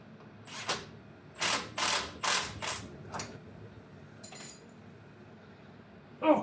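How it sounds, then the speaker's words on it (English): A ratcheting wrench works on a 1971 GMC C10 shortbed truck during an LS engine swap, giving several short, sharp clicking bursts separated by pauses, close by in a quiet space. "Why is it ratcheting wrenches always going the wrong way"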